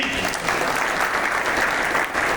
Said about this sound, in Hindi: अब बजाओ ताली।